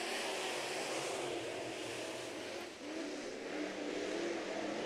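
Sport mod race cars roar around a dirt track during a heat race. The engine drone stays steady and distant with a brief dip partway through, and no voices are heard.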